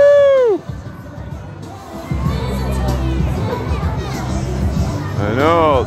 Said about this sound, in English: I know, it sounds like booing